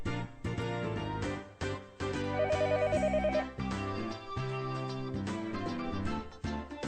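A telephone rings in the video game Higurashi, a trilling electronic ring heard briefly over continuous background music.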